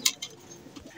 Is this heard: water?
no